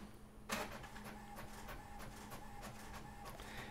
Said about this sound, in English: It actually just started printing using my printer.